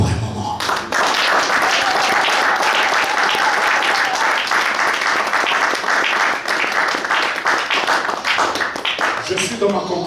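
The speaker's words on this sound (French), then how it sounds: "Tu peux battre tes mains pour un moment." A church congregation claps hands during a pastor's sermon, with dense sustained applause from many people that fills the room for several seconds, while voices call out beneath the clapping.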